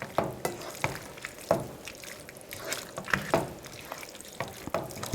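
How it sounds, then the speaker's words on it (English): Oil crackles and sizzles in a pan with soft intermittent pops and spatters, steady and close, with no voices, while making tomato basil sauce. "Once you hear the sizzling, that's the oil sizzling on the bottom"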